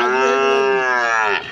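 Cattle at a busy livestock market give one long, loud, drawn-out moo close by, holding steady for over a second before trailing off, with no other voices over it.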